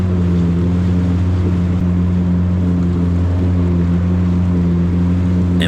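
An FX jet ski skims across open water near a Naples sandbar, its engine holding a steady, close droning hum with a low rumble and faint water wash throughout.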